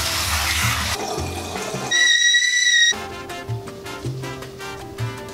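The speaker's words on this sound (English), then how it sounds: "Now we're gonna rinse the petals." Rose petals rinsed under a running tap in a sink, a steady hiss of water that shifts in pitch as the flow changes, with a brief whistling tone midway, close and without talk.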